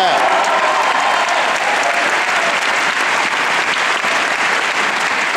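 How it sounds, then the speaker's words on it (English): A church congregation claps and shouts in response to a preacher, a loud, dense wash of hand claps and raised voices that fills the room continuously and eases only slightly toward the end. "Clap your hands and shout like that's it"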